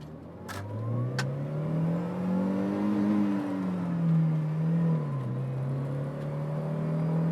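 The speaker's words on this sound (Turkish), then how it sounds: "Şurada durup bir 0-100 yapalım mı Kerem?" Heard from inside the cabin, a Volvo 940 Turbo accelerates hard from a standstill, its engine tone climbing smoothly and steadily through the gears as a continuous moderate drone.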